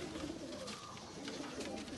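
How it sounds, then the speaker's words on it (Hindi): Sialkoti pigeons at a Faisalabad breeder's loft coo in a low, steady, rolling murmur that runs unbroken through the moment, fairly close and moderately loud. "जनाब ये ज़्यादा सियालकोटी कबूतर हैं"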